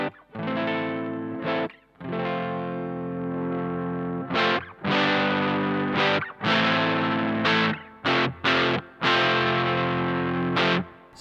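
Electric guitar with a heavy, distorted classic rock tone on the neck pickup, played loud in bursts of sustained chords and notes separated by short gaps.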